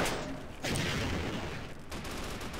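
Gunfire in Half-Life co-op, loud bursts of shots starting near and sustained across the clip, with a sharp onset then continuous rattling fire and a second surge toward the end.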